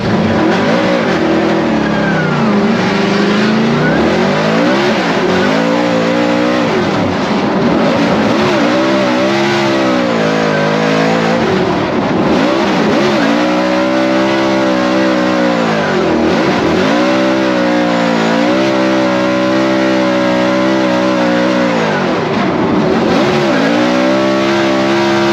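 A Mustang drift car at a Formula Drift competition in E-Town screams through a lap, its loud engine revving up and down in repeated surges and rising and falling pitch, with no voices.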